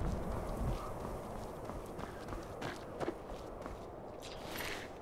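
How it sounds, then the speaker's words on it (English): Rhythmic hoofbeats of a galloping horse in Skyrim, moderately loud, with game ambience in the background. "Loud horse."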